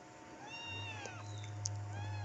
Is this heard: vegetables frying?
no